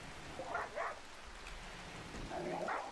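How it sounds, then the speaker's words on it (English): A dog in a video game, Rimworld, barks in short, agitated bursts, two quick barks early and another cluster near the end, faint against a hissing background. "Why is my dog growling, barking?"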